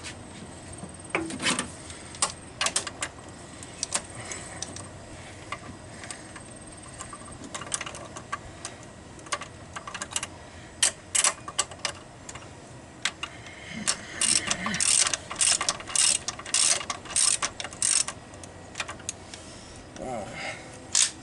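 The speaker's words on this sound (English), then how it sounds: "continue to remove the head bolts" Ratchet clicking in irregular bursts while loosening cylinder head bolts on a Volkswagen engine, close and sharp, with short mechanical clatter between pulls and occasional talk over it.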